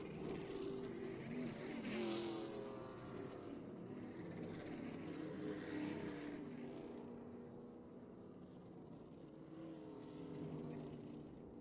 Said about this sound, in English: And looks like Bobby got his car started.